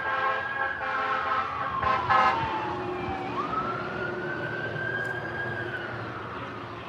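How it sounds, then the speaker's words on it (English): Fire emergency siren wailing, its tone sliding down and then rising again into a long steady wail, moderately distant and heard alone after a few short horn-like blasts at the start. "those are the sirens for the fire stuff."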